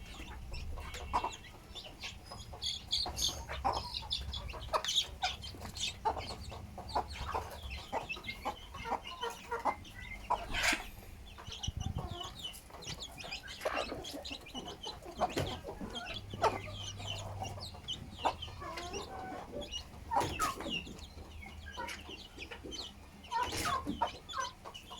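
Colombian Light Brahma chicks and hens raised under a desi hen cluck and peep close by in a backyard coop, in irregular overlapping calls with scattered rustling and a few louder squawks.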